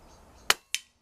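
Two sharp air rifle shots at a target while zeroing a scope at a shooting range, each a crisp close crack with a short decay, about a quarter second apart, with no talk.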